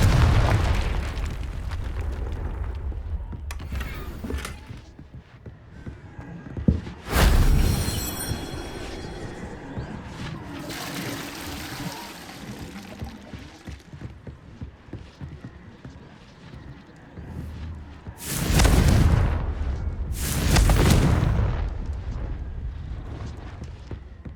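Confringo spell blasts in Hogwarts Legacy: several sharp explosive bursts at intervals, a loud one early and two heavy booms later, over game ambience and scattered combat noises.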